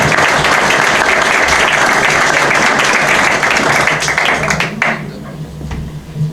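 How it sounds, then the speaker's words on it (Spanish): An audience at an academic talk on recent history applauds two speakers, with loud sustained clapping that thins out around the fifth second before a few final claps. "Así que un fuerte aplauso para ellos y muchas gracias por estar acá."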